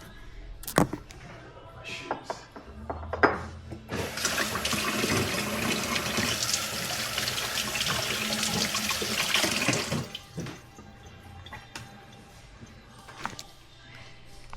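A kitchen tap runs at close range for about six seconds while hands are washed, a loud splashing rush of water that starts and stops abruptly, with scattered clunks and handling sounds before and after.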